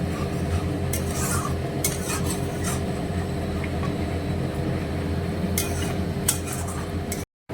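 Egg curry being stirred and sautéed in a pan, a steady sizzle with scraping of a spoon against metal and a few louder clinks, close up, cutting off abruptly at the end.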